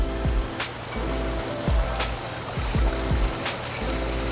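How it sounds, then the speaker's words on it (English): A backyard waterfall spills over natural stone, giving a steady rushing splash broken by scattered low thumps and drips, with no voices. "Waterfalls can add a really unique space for your backyard, not only for the looks, but also for the sound they provide."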